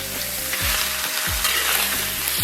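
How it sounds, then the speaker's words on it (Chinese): Chopped scallion, ginger and garlic sizzle and crackle loudly as they're stir-fried in a hot wok, with a steady frying hiss and a few scraping stir strokes, close up and without talking. "简单给它煸炒一下"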